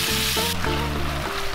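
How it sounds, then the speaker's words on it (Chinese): Beef and vegetables stir-fried in a hot oiled wok, with a steady loud sizzle throughout, broken by scraping and tossing strokes of the spatula. "然后把牛肉放进来继续翻炒"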